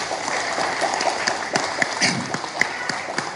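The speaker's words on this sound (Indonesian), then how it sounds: "tepuk tangan dong." Brief, moderately loud applause from a room of attendees at a political party press conference in Indonesia, a dense patter of claps with a few sharper individual hits.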